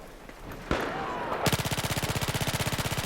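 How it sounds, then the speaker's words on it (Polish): A submachine gun fires full auto in Battlefield 4, a rapid, evenly spaced burst of loud shots lasting well over a second, preceded by a sharp crack and rumbling battle ambience. "Ja mam pistolet maszynowy."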